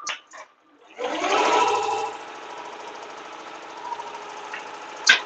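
Embroidery machine stitching scrubs, a steady mechanical whir with a rapid needle rhythm that starts after a moment of quiet and runs nearby for several seconds, ending with a sharp click.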